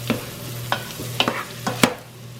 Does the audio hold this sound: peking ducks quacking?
no